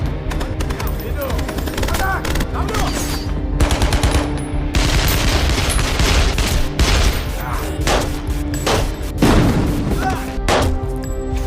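Rapid bursts of gunfire from a film's action scene as a gunman shoots down a mafia boss's henchmen inside a factory, dense volleys and booms layered over a loud music score throughout.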